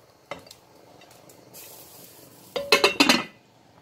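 Utensil clinks and scraping against a pot while white bean stew (potaje) is stirred, quiet at first, then a burst of louder metallic scrapes and knocks near the end.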